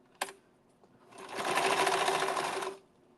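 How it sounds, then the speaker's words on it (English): A sewing machine stitches through a paper card at a stitching event. A sharp click comes first, then about a second and a half of steady, close whirring as it runs, and then it stops. "let's see whose machine will actually work today"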